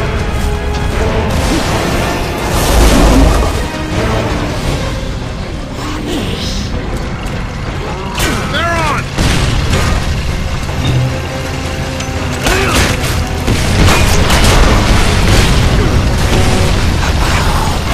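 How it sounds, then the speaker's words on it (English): Mortar fire and explosions in the video game Gears of War: Judgment, a dense, loud barrage of booms, bursts and crashing impacts running continuously over mechanical clatter, with scattered shouting voices. "Mortar squads!"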